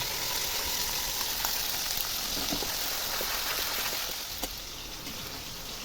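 A tomato and onion paste hitting hot oil in a pan with fried stingray, giving a loud, even, continuous sizzle that eases slightly toward the end, with no voices.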